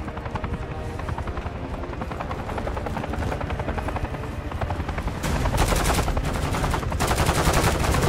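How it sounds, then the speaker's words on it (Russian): Gunfire in Call of Duty Modern Warfare 3, rapid machine-gun bursts over the constant thrum of a helicopter, loud and dense throughout and growing heavier toward the end. "Выстрел."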